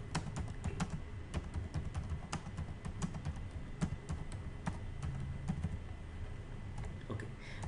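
Quiet, irregular clicking of keys on a computer keyboard, a steady stream of taps over faint background hum.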